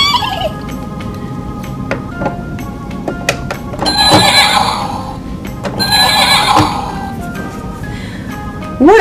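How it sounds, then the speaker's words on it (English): Horse whinnies loudly twice in long, descending neighs, with sharp hoof clip-clops and a turkey gobbling mixed in on a farm. "What sort of sound does a horse make?"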